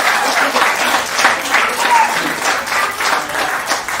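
Applause from the crowd at an annual art camp and exhibition, continuous clapping that swells and ebbs slightly over several seconds.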